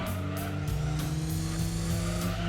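Racing car engine in Gran Turismo 2, a BTCC S4 touring car during a race, droning steadily at high revs with a brief downshift and continuous loud motor tone, no talk.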